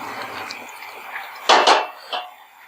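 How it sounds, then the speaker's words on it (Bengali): Spoon stirring beef liver in a pan, soft scraping movement followed by a few distinct metallic clinks and knocks against the pan, close and fairly loud. "তো এটা দিয়ে আমি একটু নেড়ে দিচ্ছি।"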